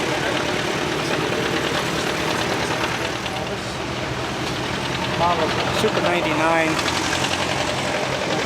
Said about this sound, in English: It's got a 3-cylinder Detroit diesel engine with a blower on it.